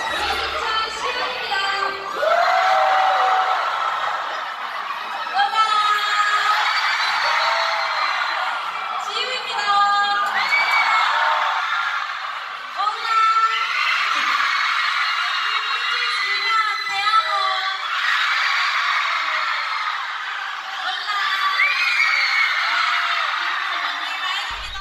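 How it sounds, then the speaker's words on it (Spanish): A K-pop concert crowd in Buenos Aires screams and cheers in loud, sustained waves of high shrieks and whoops, with voices talking over the din. "toda la gente gritó muy fuerte"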